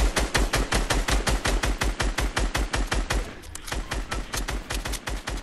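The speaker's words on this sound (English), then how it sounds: "keep shooting, keep shooting" Rapid automatic gunfire in a video game, loud and close, with evenly spaced shots pounding out in a sustained burst that dips briefly before resuming at the same fast rhythm.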